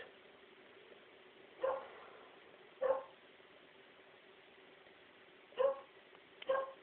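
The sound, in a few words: dog barking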